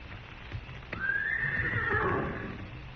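A horse in an old western radio drama whinnies loudly and close by, the long, wavering neigh rising then falling, with soft hoof clops and shuffling underneath.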